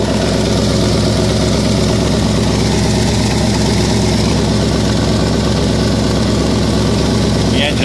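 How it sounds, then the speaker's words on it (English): A 1966 Ford Thunderbird engine idles smoothly while warming up, a steady, close, low rumble with even vibration running unbroken throughout. "The engine doesn't move. It's so smooth."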